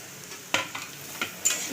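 Carrots and beans frying in a pan being stirred for a chowmein recipe, with a few sharp scraping strokes over a low steady sizzle, close and fairly quiet.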